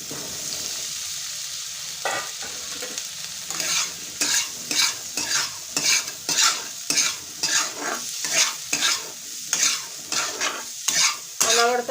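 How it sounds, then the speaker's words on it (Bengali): Washed, drained grapes hit a hot pan for pickle and sizzle steadily while being stirred, with repeated scraping strokes in an even rhythm, close and fairly loud, no voices. "আমি যে আঙুরগুলো বোটা থেকে ছাড়িয়ে ধুয়ে জল ঝরিয়ে নিয়েছি এখন আমি দিয়ে দিচ্ছি"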